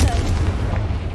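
A Confringo fire spell blasts in the Hogwarts Legacy video game, a heavy booming burst with a deep rumbling tail that fades over about a second.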